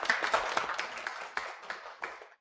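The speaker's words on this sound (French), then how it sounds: "Applaudissons-la bien fort." A small group of office colleagues claps for a newly appointed supervisor, scattered, uneven hand claps that thin out and fade over a couple of seconds.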